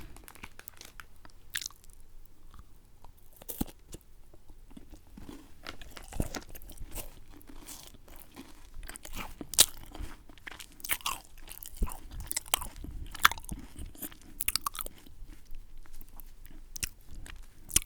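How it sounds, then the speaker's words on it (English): Chunky peanut butter is eaten right up against a binaural ASMR microphone, making a dense run of close crunches, bites and wet chewing sounds over the whole stretch, with no talking. "So let me taste the chunky peanut butter."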